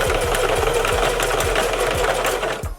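A sewing machine runs fast and steady, stitching a hair weft track onto a wig cap, its rapid mechanical chatter loud and close before slowing to a stop at the end.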